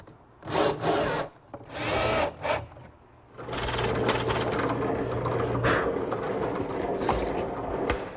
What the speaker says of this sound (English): Now I drill a 35mm hole in the door to receive the hinge